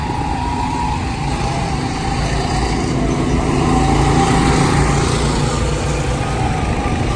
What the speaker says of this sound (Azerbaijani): Burada maşın racingləri gedir. Hətta uşaqlar üçün motor racingdir. Yəqin ki, səslə eşidirsiniz.